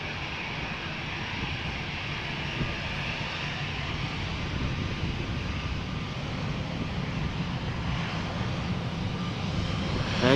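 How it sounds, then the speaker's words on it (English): Steady jet engine roar from a Boeing 787-10 Dreamliner moving across Amsterdam Schiphol Airport, a continuous broad rumble and hiss in the background that holds evenly throughout. "In the background, coming from left to right, is a 787-10 Dreamliner that is destined to go to Chicago."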